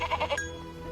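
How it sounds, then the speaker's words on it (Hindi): Sheep and goats bleat several times in quick succession, close and clear, each call wavering, with a shepherd grazing the flock on a hillside; after the calls a low, steady outdoor hum continues. "अपनी भेड़ बकरियां चरा रहा था।"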